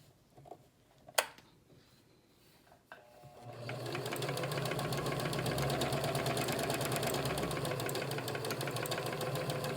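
A Kenmore 385 series sewing machine sews decorative stitch number 5. After a few soft clicks, the motor starts up and runs at a steady, rapid mechanical chatter close by until the end.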